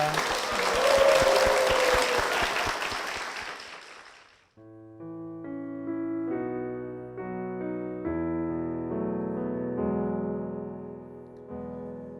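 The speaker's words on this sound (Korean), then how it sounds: "여러분 힘찬 박수 부탁드리겠습니다" A church congregation gives a burst of hearty applause that rolls on for about four seconds, then fades out as soft, sustained keyboard worship music rises and carries on alone.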